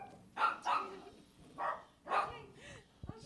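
Small dogs at a pet boarding business bark in a series of four or five sharp yaps at a moderate distance, with faint background noise between them.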